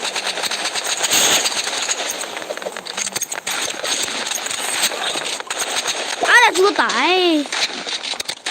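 Rapid gunfire from a gun in the Roblox video game, a dense crackling burst running under lively talk, with sliding electronic tones near the end.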